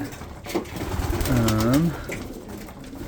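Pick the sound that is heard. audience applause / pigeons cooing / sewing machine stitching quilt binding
pigeons cooing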